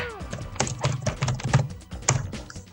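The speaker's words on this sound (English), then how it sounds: "I'm typing it." Rapid clicking keystrokes on a computer keyboard, close and moderately loud, in uneven bursts with a few short pauses, while a voice talks quietly underneath.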